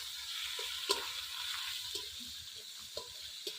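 Ginger paste sizzles and fries steadily in a hot pan for a village-style jackfruit curry, with a continuous crackling hiss and a few sharper clicks of stirring, close and moderately loud, no talking.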